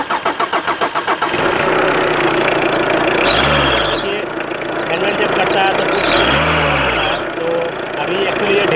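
A car is started after its serpentine fan belt was replaced. A quick chugging crank catches and settles into a loud, steady idle with a couple of revs, while a person talks nearby.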